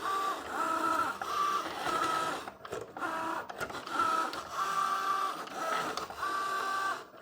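A Cricut Joy cutting machine works through dissolvable smart paper, its carriage motor buzzing in repeated whirring passes with brief pauses and small clicks, close and fairly quiet.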